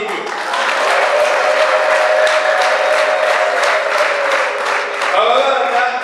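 A church wedding congregation cheers and ululates: loud, sustained crowd applause and joyful shouting with a high, wavering ululation running through it, close and continuous.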